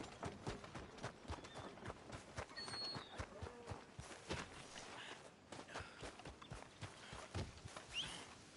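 Horse hooves clip-clop in a steady walking rhythm in the video game Red Dead Redemption 2, close and continuous, with a busy ambient background and no talking.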